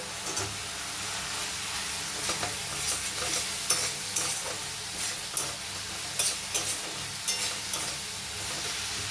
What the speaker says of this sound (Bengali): এবারে আমি আলু ভাজা আর ওই শামুক ভাজাটাকে এই মশলার সঙ্গে একসঙ্গে কষে নেব।